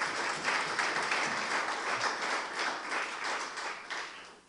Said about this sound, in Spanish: ¿Una ofrenda de palmas al Señor con todo el corazón?